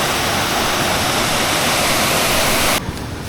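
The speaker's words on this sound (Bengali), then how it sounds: "এই সেই বুনো ঝর্ণা" Bilashi, a wild jungle waterfall, roars loud and steady in a dense, unbroken rush of water during rainy-season camping. The roar drops sharply just before the end.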